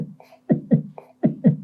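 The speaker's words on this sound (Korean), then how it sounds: "저희 심장 소리 한번 들려드리겠습니다" Heartbeat sound effect: two paired lub-dub thumps, each pair a quick double beat with a short gap before the next, alone with no talk.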